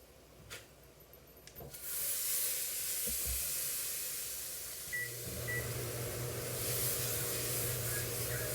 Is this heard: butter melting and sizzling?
yes